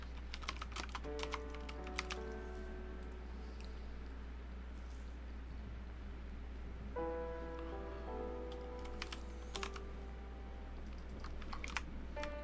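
Steady typing on a computer keyboard in a quiet home room, bursts of fast key clicks with short pauses between them, faint and a little distant over a constant low hum.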